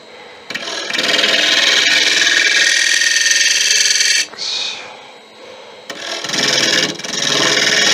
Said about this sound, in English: Negative brake, scrape that to get rid of tool marks.